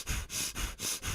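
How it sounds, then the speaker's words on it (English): Fire breathing: five rapid, forceful breaths pumped from the belly through the nose, evenly spaced and close, each a sharp rushing sniff. "let's drop back into some fire breathing. I'm going to use my tummy like a pump."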